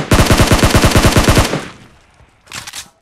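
Loud, rapid bursts of gunfire in PUBG Mobile, with a shotgun user nearby: a dense run of evenly spaced shots for about a second and a half, then quiet, then a shorter, fainter burst.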